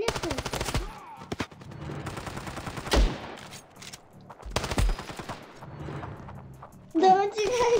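Video game gunfire pops out in quick bursts, some rapid like automatic fire, with a few louder shots standing out. It is mixed with excited talk from players throughout.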